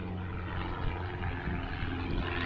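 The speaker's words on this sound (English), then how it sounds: "lot of locals up in their planes." Small propeller planes fly overhead near a Murray River town, heard as a faint, steady, distant engine drone that holds evenly throughout with no talking.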